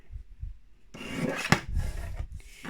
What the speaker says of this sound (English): Off of this 1 inch strip, you're going to cut another 1/2 inch off the length.